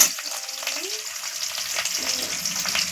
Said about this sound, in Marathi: कढीपत्ता हिरवी मिरची ही अशी सुरुवातीला फोडणी घ्यायची